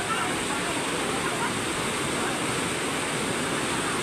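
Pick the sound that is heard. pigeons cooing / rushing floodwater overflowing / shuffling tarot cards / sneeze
rushing floodwater overflowing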